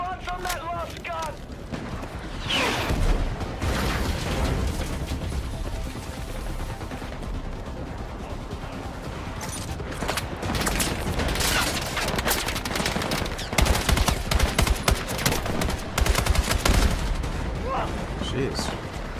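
Loud, sustained anti-aircraft gunfire in a video game, with rapid bursts, booms and crackling explosions running continuously, with voices calling out in the battle.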